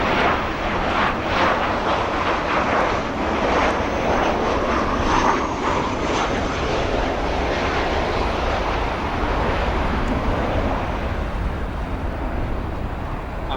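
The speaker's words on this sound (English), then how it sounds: "Here is our Southwest Airlines 737." Southwest Airlines Boeing 737 airliner at Chicago O'Hare airport, a steady broadband jet engine roar that holds loud and even throughout, with no talk.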